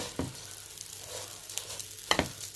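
Vermicelli (semiya) browns in a pan over low heat with a faint, steady sizzle. A few soft scrapes of stirring come through close by.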